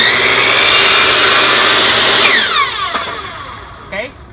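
A power saw set at an angle slices a mitered end on a piece of siding, a loud sustained whine for about two seconds that winds down as the blade spins to a stop, with a faint knock near the end.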